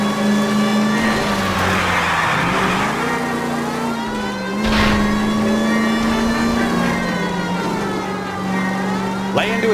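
A car engine in L.A. Noire revs loud and steady during a chase, its droning pitch rising and dipping as the car accelerates, with game music and effects layered underneath.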